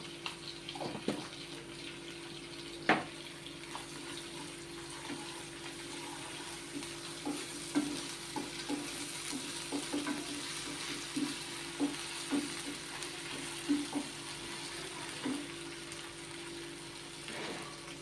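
Ginger and garlic frying in oil in a pan, a soft continuous sizzle with scattered light clicks and stirring knocks, fairly quiet and without talk.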